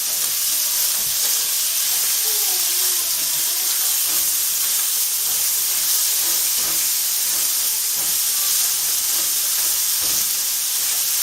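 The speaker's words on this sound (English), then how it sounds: "Ooh, sizzling." Steady, bright sizzling and hissing of bacon frying in a hot pan, continuous throughout with faint crackles and no voices.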